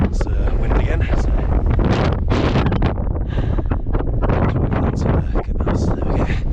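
Strong gusts of wind buffet the microphone on a mountain ridge near Mount Hotaka (3,190 m) in Japan's Northern Alps, a loud and continuous roaring rumble throughout.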